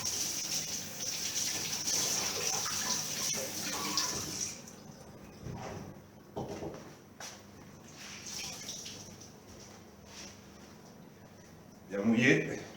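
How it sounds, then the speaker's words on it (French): A dish towel is soaked under a running kitchen tap while making a bread-cake dough, giving a steady close gush of water for the first few seconds, then scattered drips and wet splashes with a louder burst near the end. French speech runs over it. "on va prendre un torchon. On le mouille."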